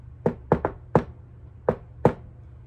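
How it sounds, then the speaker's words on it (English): Knuckles rap on a wooden door in the shave-and-a-haircut rhythm, six crisp knocks with a quick double in the first half and a pause before the final two, close and alone. "knocked my special knock on her door, the one that sounds like shave and a haircut two bits."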